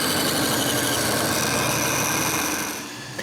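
A loud, close band saw drones steadily through a cut in wood, rough and buzzing, then eases off and quiets near the end.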